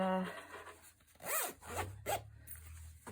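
A zipper on a fabric sewn bag is pulled closed in a few quick rasping strokes, close up, with faint background noise between pulls.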